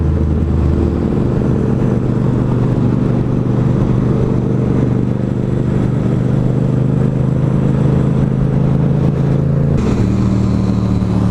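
Motorcycle engines drone steadily on a freeway with continuous road and wind noise, engine pitch rising and shifting near the end, loud and close throughout.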